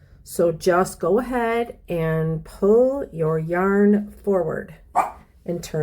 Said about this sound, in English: And that's my dog, my Frenchie.